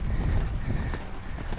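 A large horse with a cold back moves on its hooves during a trial ride, giving a steady, close, low-pitched thudding and shuffling with no voices.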